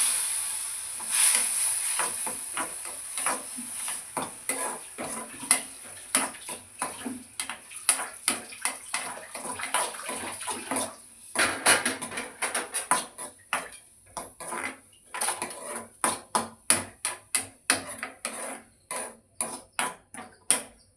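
Onion and tomato being sautéed in a pan for egg Maggi noodles, with a quiet background sizzle and a long series of rhythmic spatula taps and scrapes against the pan that grow quicker and louder toward the end, no voices.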